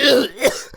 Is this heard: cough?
yes